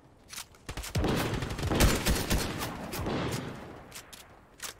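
Rapid bursts of gunfire from a Fortnite match crack loudly and close, several volleys of shots in quick succession with booming tails, no talk over them.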